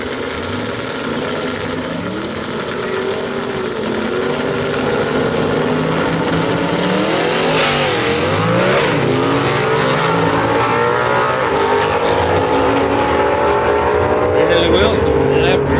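A Studebaker gasser drag race car at a dragway rumbles loudly at idle, then its engine revs and climbs in pitch, with a crowd and other cars audible in the background.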